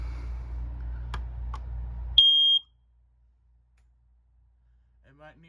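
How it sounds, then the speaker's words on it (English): An older First Alert smoke detector gives one short, piercing high-pitched beep after a steady background hum, then the room falls nearly silent. "This is an older smoke detector. It's an older first alert, but it still works."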